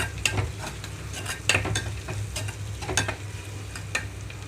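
Turmeric is stirred into frying tempering for cabbage fry, with a soft, steady sizzle under repeated scraping strokes of a utensil against the pan.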